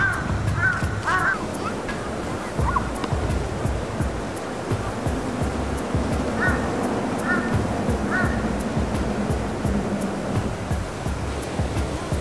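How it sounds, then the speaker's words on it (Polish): Loud cawing from large Japanese crows rings out in repeated bursts of several calls across the recording, set against a steady wash of outdoor ambient noise in a green area of Tokyo. "A to, co w tle słyszycie, to są japońskie kruki. Naprawdę potężne i naprawdę głośne."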